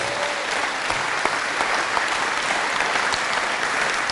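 A church congregation applauds in honour of Jesus during a priest's talk on spiritual gifts, a dense, steady wash of many hands clapping that holds at an even level throughout.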